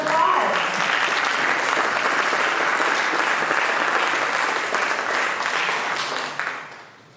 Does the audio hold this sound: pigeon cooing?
no